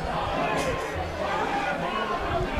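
A high school football crowd grumbling and murmuring after a penalty flag, a dense low babble of many voices filling the air at moderate volume, with a commentator speaking over it.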